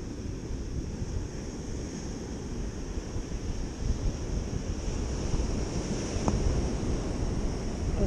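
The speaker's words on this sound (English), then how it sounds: "Ocean's kind of angry today." Rough, angry ocean surf on a beach with steady wind buffeting the microphone, a continuous loud roar of breaking waves swelling slightly toward the end.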